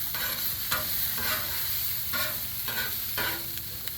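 Sausages fry on a Blackstone griddle with a steady, close sizzle and spatter, broken by several scraping spatula strokes at intervals; nobody speaks.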